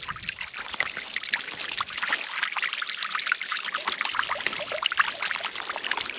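Water pouring out from a solar pump, a steady bright splashing stream that runs continuously at moderate loudness.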